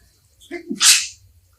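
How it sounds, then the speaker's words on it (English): A single sharp sneeze, a quick intake followed by a bright, explosive burst, close and clear against near silence. "Perfect sneeze."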